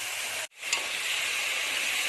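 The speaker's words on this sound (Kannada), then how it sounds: "ಈಗ ಚೆನ್ನಾಗಿ ತೊಳೆದಿಟ್ಕೊಂಡಿರೋಂಥ ಮಟನ್ ಹಾಕ್ತಾ ಇದ್ದೀನಿ" Washed mutton goes into a hot pan, a brief dip then a broad, loud hiss of sizzling that settles into a steady, continuous fry close by.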